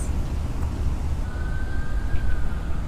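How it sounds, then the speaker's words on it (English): Loud traffic rumble from a heavy truck passing on a city street in Washington, D.C., a steady low roar with a faint siren-like whine rising over it partway through. "That's a loud truck."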